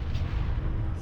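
Turret gunfire in the Mass Effect 1 video game, a dense, continuous low rumble of booming shots close by, with no talk over it.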